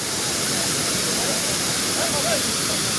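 Hogenakkal waterfall roars as a steady, dense rush of falling water that fills the whole clip, loud and unbroken, with no voices.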